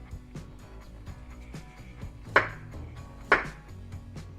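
A kitchen knife chopping vegetables for Korean gimbap on a cutting board, a run of light, evenly spaced taps with two sharper, louder chops near the end, close and quiet with no talking.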